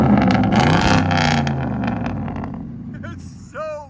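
A truck's 5.7 HEMI V8 revs loud and close, a deep roar that swells at the start and slowly fades, with a voice breaking in briefly at the end.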